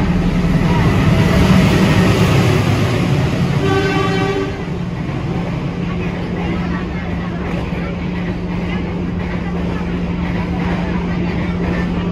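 A Madiun Jaya passenger train runs straight through Purwosari station, heard from behind a window: a loud, steady rumble of rolling wagons with a brief horn-like tonal burst midway, then a lower sustained drone.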